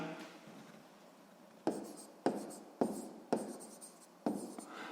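Pen writing on paper during a sixth-grade math exercise, a quiet stretch followed by five sharp, evenly spaced scratchy strokes, close and alone with no talking.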